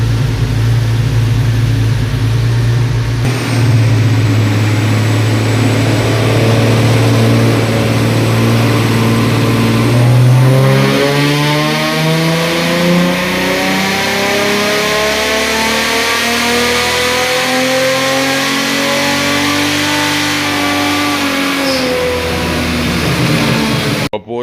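A Hemi 6 engine in an RT Charger revs hard on dyno rollers, a loud steady drone climbing in pitch through the gears, then the revs drop and fall away as it winds down.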